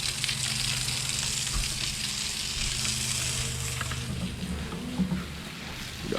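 A hose sprays water over plants and a fence while soft washing a patio, giving a steady, close, broadband hiss with no break across the whole stretch.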